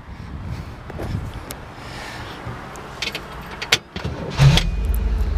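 A 1967 Chevrolet Camaro SS/RS pace car with a 350 V8 starts: after some faint clicks and a brief crank, the engine catches near the end and settles into a loud, deep, steady rumble close by.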